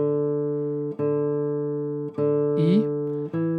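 Classical guitar notes played with rest strokes, sounding as a run of clear, sustained single tones with distinct plucked attacks roughly once a second, close and alone, with a faint scrape near the end.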